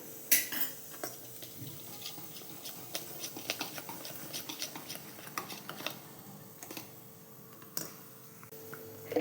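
A spoon mixes homemade dhokla batter with oil in a bowl, giving quick, irregular clinks and scrapes against the bowl that are faint and close, with no talking.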